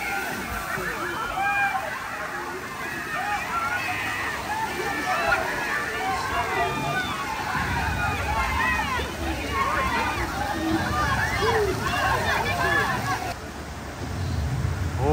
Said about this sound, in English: it's gonna be a big splash